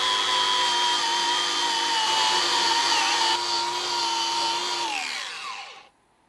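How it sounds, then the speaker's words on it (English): A power drill spins a wire wheel against an engine part face on a 1976 Starcraft Mercruiser 120hp engine, a steady whining grind that slows and winds down to silence. "Now I'm gonna take my old handy dandy wire wheel here, and we can clean this face off and get it ready for a gasket."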